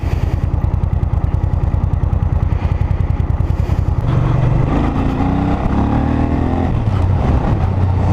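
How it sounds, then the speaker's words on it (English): A Suzuki VX800 motorcycle engine idles at about 1100 RPM with a steady rapid putter, then revs up responsively several times, rising and falling in pitch, loud and close. "Steady idle at about 1100 RPM, revs nicely, quite responsively."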